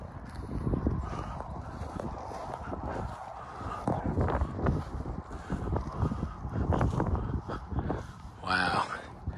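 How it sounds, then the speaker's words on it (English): Strong wind blowing across a backyard, gusting roar and buffeting on the microphone that continues throughout, with someone talking over it. "Man, that wind's high."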